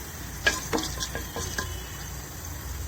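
Fenugreek seeds crackle in hot oil, a few sharp pops and sputters over a soft sizzle, close and fairly quiet, fading after a second or so.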